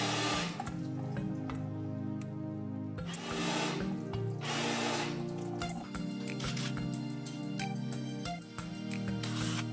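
A steady rush of water spraying from a hose nozzle during honing of a cylinder block, under loud mechanical humming and rattling of a drill, continuous throughout with no voices.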